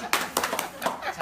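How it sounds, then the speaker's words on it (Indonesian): A few scattered hand claps ring out from an audience at a Paytren business seminar, sharp and irregular over a low murmur of voices. "Iya, betul. Tepuk tangan dong."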